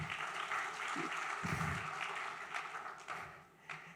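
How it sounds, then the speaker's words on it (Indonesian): Congregation applauding during a church sermon, a sustained broadband clapping wash filling the whole stretch at steady loudness, fading slightly near the end. "Berikan tepuk tangan buat dia."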